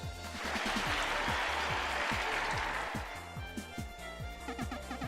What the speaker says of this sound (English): Let's get the crowd wild and cheering.